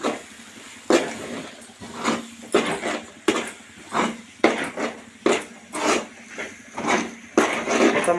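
Beaten egg mixture stirred quickly in a pan, giving a steady rhythm of scraping, clinking strokes about twice a second. The sound is close and clear, with no talking over it.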